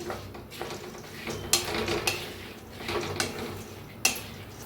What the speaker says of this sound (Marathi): आता ही मटकी कढाईत टाकूया मटकी काय करूया छान अशी भाजून घेऊया